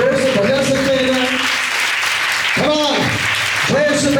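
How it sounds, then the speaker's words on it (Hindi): A church congregation at a Sunday service claps loudly and continuously for the Lord while a voice speaks and sings over the applause. "ताली बजाएंगे प्रभु के लिए।"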